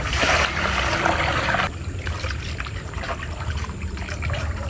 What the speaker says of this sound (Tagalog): ngayon ay lalagyan natin ng tubig para mahugasan natin ng maayos